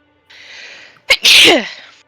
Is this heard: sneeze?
yes